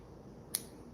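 A single brief snip of scissors cuts legs for a bucktail jig, a sharp isolated click in an otherwise quiet room.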